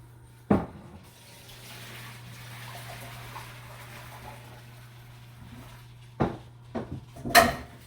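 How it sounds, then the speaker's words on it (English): Cooked pasta is drained into a kitchen sink: a faint, steady rush of pouring water runs for several seconds, bracketed by sharp clanks of the pot at the start and again near the end. "The pasta is ready. And we are going to drain it."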